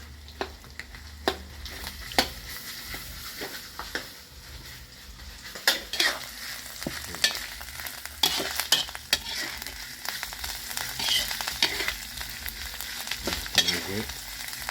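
Pork stir-fried with red curry paste sizzles steadily in a pan while a metal utensil scrapes and clanks against it in frequent sharp knocks and rattles, nearby and fairly loud, with no speech.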